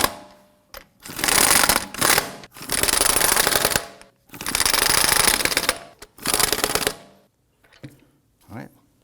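Lug nuts on a Volvo XC90 wheel snugged down with an impact wrench, four loud close bursts of rapid rattling hammering separated by short pauses, then a faint clink at the end.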